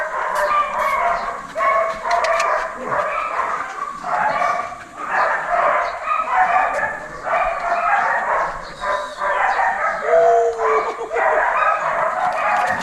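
A dog barks excitedly in rapid, repeated yips and barks during search training around hollow blocks. The barking is close and loud and runs almost without a break.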